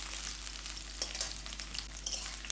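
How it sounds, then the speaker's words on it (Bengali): Potato pieces fry in mustard oil with a steady, close sizzle and occasional louder crackles and pops, heard alone without any talk. "এখানে প্রথমে আমি আলুগুলো ভেজে নিচ্ছি"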